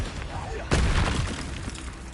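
A Confringo explosive curse blast in Hogwarts Legacy, a single sudden booming burst that decays over about a second amid game sounds.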